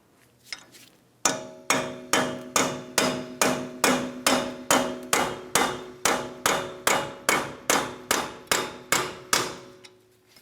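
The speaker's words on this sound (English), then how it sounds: "Let's continue on with a hammer and punch." Steady hammer blows on a punch against a 2009-2019 Ford Flex axle, freeing it from the wheel bearing assembly: about twenty evenly spaced clanging strikes, close and loud, each with a short metallic ring.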